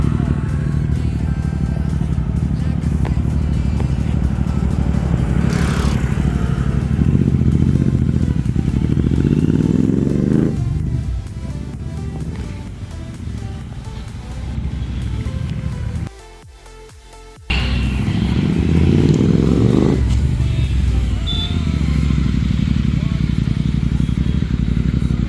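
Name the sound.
Royal Enfield Interceptor 650 motorcycle being ridden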